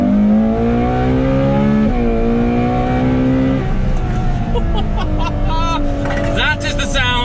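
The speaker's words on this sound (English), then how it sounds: "That is the sound of 771 naturally aspirated V12 horsepower." Ferrari F12 TDF with a naturally aspirated V12 revs hard and loud, pitch climbing through several rising sweeps with brief drops between, close and continuous, with sharp crackles near the end.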